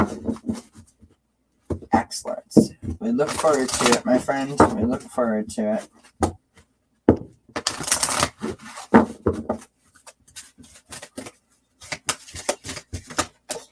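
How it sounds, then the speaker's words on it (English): Oracle cards, a fairy-themed deck, shuffled by hand in quick papery bursts between stretches of a person talking close by. "Let me just shuffle these up for you"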